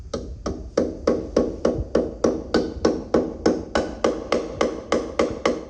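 Steady series of about seventeen sharp metallic taps as a new door bushing is hammered into place on a K5 Blazer, evenly spaced, close and loud with no talking.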